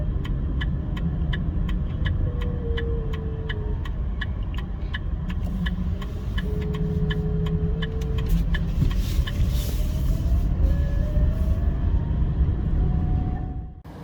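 A 2025 JMEV EV2 small electric car accelerating at low speed, giving off a synthetic pedestrian-warning tone that slowly rises and shifts in pitch over a steady road rumble, with rhythmic ticking throughout and no talking.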